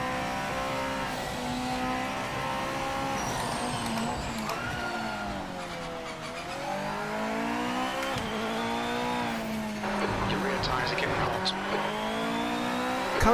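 A GT500 race car in the Project Motor Racing video game howls through rising and falling revs with gear changes and squealing tires, loud and continuous throughout.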